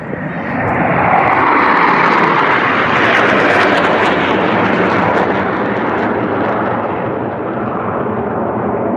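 Loud, roaring jet engine noise from Blue Angels jet aircraft flying a line abreast loop at an air show, a broad sustained rumble that swells and holds before slowly easing, with no talk.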